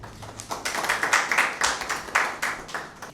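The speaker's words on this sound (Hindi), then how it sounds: "आपकी भरपूर तालियों में जनाब एजाज़ गिल साहब।" Applause from a mushaira audience at a Father's Day poetry evening, a steady patter of many hands clapping together for about three seconds, fairly close and with no talk over it.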